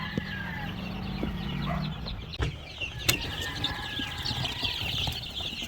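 Game fowl crosses, chickens in a farm pen, clucking and calling close by with a brief flurry of wing flaps and a few sharp knocks, no talking over them.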